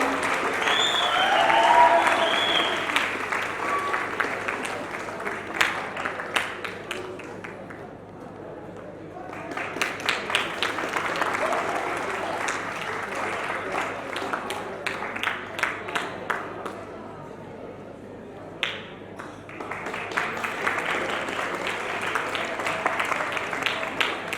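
Sustained applause from a seated audience at a school annual prize distribution ceremony, steady clapping rolling on for over twenty seconds with brief dips, moderately loud and close, with no talk over it.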